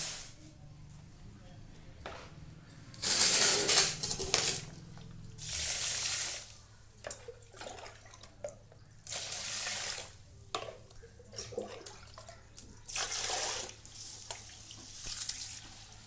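Water is poured in several separate splashing bursts with quiet gaps between, close by, as finger millet is rinsed in a vessel and the water drained off.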